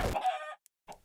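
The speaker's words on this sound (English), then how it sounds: "we're gonna have a pretty decent sized chicken farm" Chickens clucking on a farm in Minecraft: a harmonic squawk of cluck for about half a second, a short silence, then one more brief cluck at the end, fairly quiet with no talk.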